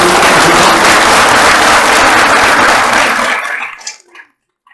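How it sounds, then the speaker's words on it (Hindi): A hall full of people applauding in welcome, a loud, dense wash of clapping that holds steady for over three seconds, then thins to a few scattered claps and stops. "आज एक बार कम से कम अपने अपने जगह से ताली बजा करके स्वागत"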